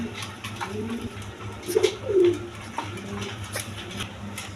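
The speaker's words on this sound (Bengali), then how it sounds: "এখানে এক পেয়ার লাহরি কবুতর দেখেন" A pair of big Lahori pigeons coo close by, soft low rolling calls repeating with a louder burst midway, over a faint background hum.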